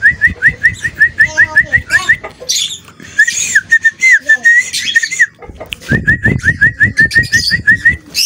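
A yellow cockatiel whistles a quick run of repeated rising notes, pausing and then resuming, with other birds chirping and cooing around it and a few brief spoken words.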